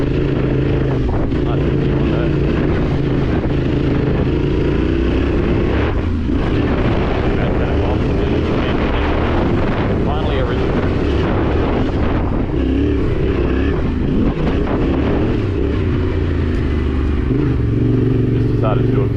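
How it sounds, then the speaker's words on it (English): Yamaha T7 adventure motorcycle running on a cool morning near a campsite in the Otways, a steady engine drone with wind buffeting the microphone throughout, loud and close, while a voice talks over it. "So we let the bike warm up a little."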